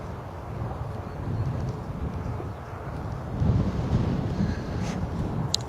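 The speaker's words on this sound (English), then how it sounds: "As you can probably hear, but not thankfully as badly as previously, it is quite gusty here" Gusty wind buffets the microphone at an airport, a continuous low rumble that swells and surges toward the end, with no talking.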